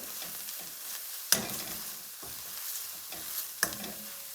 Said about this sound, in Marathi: आता हे चांगलं मिनिटभर परतून घ्यायचं आहे आहे लाल मिरची पावडर आता हे सगळं व्यवस्थित हलवून घ्यायचं आहे